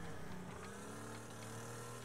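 Heavy old muscle car engine in the Wreckfest racing game, a steady loud droning rumble held throughout without clear revving peaks.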